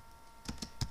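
A few quick keystrokes on a computer keyboard while entering JavaScript code, three soft clicks in close succession near the end, quiet and alone.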